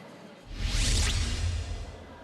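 An MRT train passes through a station with a broad rushing whoosh that swells after a quiet start and sustains a low rumble before fading slightly, heard up close.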